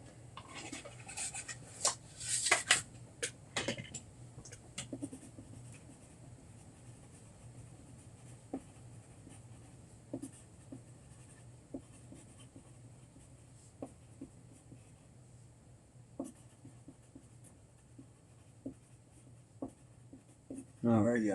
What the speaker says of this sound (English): Write that down right quick.